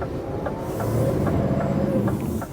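A 2024 Scania V8 R590 truck pulling away from a stop, a steady deep engine drone with a rising whine, heard loud and close from inside the cab with no talking.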